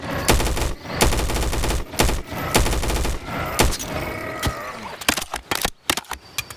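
Rapid bursts of AR rifle gunfire inside the BONELAB VR game, with loud automatic strings and single shots cracking close, then a sparser run of separate shots near the end.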